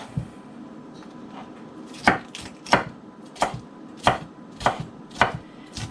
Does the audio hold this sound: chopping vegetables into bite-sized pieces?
yes